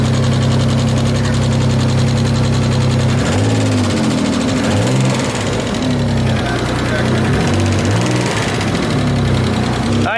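A Mitsubishi 3000GT VR4 engine runs loud and steady with an exhaust leak, its low throbbing drone briefly wavering in pitch as revs shift, under some talk nearby.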